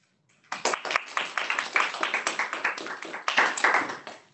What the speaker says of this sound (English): It's so strange to hear applause after a talk.